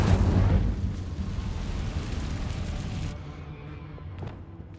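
Fiery Incendio spell blast in Hogwarts Legacy, a loud booming burst that opens sharply and then trails off into a long, fading roar and rumble, with no talk.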